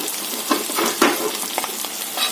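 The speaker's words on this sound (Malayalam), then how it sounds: "ഇനി നമുക്ക് ഈ സവാളയും കൊച്ചുള്ളിയും കൂടെ അതിലോട്ടിട്ട് നന്നായി ഇളക്കി ഒന്ന് വഴറ്റിയെടുക്കാം" Onions and shallots sizzle and fry in a hot pan for an egg roast, with scraping stir strokes at irregular intervals over a steady crackle; close and moderately loud, no talking.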